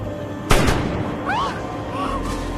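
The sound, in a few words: sniper gunfire in film Shooter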